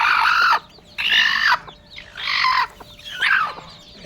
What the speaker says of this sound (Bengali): কালিয়াপুর ফার্ম দেশি মুরগির বাচ্চা হচ্ছে 10টা